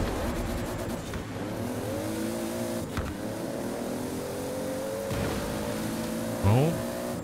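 A sports car in the Forza Horizon 4 racing game holds a steady engine drone, then its revs climb and sweep upward as it launches from a standstill. The engine sounds close and constant.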